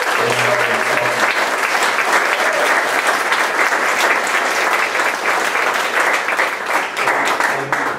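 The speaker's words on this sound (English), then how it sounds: "let's have a big round of applause" A lecture hall audience at a conservation leadership talk gives a big round of applause, dense and steady clapping that fills the room for the whole stretch without pause or talk over it.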